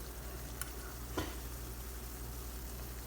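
Jamaican banana fritters frying in a pot of oil, giving a steady low sizzle with a couple of brief ticks or clicks, close and without talk.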